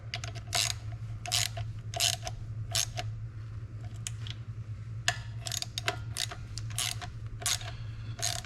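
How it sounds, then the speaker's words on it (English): A hand ratchet clicks in quick bursts while tightening bolts on the torque ball of a 1958 Buick Special Dynaflow, sharp near pawl ticks in uneven runs over a low steady hum. "Let's go ahead and tighten it down a little bit though."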